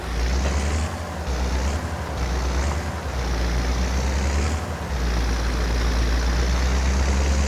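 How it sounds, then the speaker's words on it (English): A tractor in Farming Simulator 22 drives at a steady loud engine drone, with slight dips in the roar as it works through its gears, and no talk over it. "Takes this tractor a little while to kind of shift through the gears"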